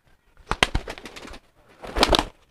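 An old homing pigeon coos in two close, fairly loud bursts, the first a rapid throaty series and the second a longer rolling coo, with no talk.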